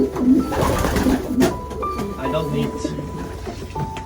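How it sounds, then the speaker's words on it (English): Racing pigeons cooing in a loft, soft repeated coos near the start over a busy background with talk and a faint rail-like rumble. "Lucky, Limoges, Sablon, that's this type of pigeon"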